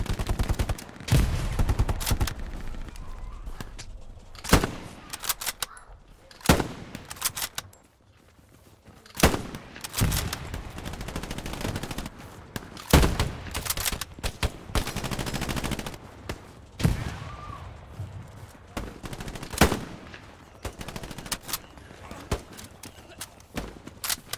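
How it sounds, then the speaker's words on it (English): Gunfire from a Hell Let Loose battle, including machine guns: sharp, irregular bursts and single shots, some close and loud and others distant, scattered across the stretch with a faint voice now and then. "machine guns?"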